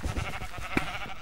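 A Minecraft sheep bleats in the game, a short wavering baa near the middle over a steady background of game sounds, fairly quiet, no talking.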